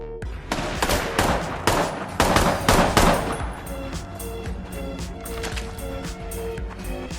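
Gunfire in a scene from the action film The Equalizer: a dense burst of sharp, loud shots over a busy film soundtrack, thinning into a rumbling background.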